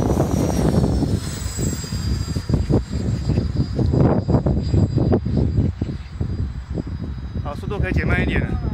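Radio-controlled Viper model jet aircraft in flight, giving a continuous jet whine and rushing roar outdoors, while people talk over it throughout.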